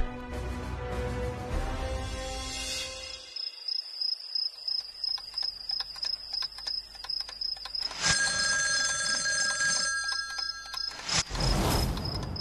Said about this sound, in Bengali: এ কি, কেউ ফোন তুলছে না কেন?